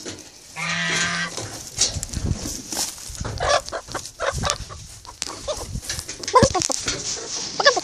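Chickens cluck and squawk inside a henhouse in the dark, irregular clucks and a short rooster-like call close by, while a person talks over them.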